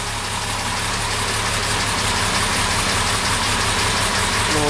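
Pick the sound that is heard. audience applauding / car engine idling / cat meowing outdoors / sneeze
car engine idling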